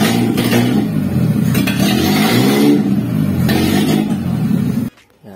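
A car engine revs loudly and close through an 18-inch scav muffler exhaust, giving a deep, sustained drone with rising and falling pitch before cutting off abruptly near the end.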